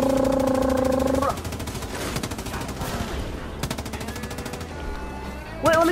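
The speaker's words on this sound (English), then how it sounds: "Alright, time to get the LMG out," A light machine gun fires in the Far Cry 5 video game, rapid rattling bursts of close, dense shots over a background of game sounds and tones, with no talk.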